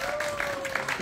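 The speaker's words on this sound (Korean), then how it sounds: "자, 그럼 우리 소리보감 소개하기 위해서 큰 박수 한번 부탁드리겠습니다." A crowd claps steadily for a traditional Korean music chamber ensemble at an outdoor performance at Seosan Hyanggyo, with a voice and a faint steady tone running underneath the brief applause.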